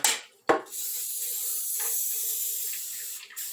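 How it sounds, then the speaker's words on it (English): A sharp hiss of cooking spray opens, then a long, even hiss of aerosol onto a bread pan runs for about three seconds before a final short burst. "I'm going to spray my little bread pan here"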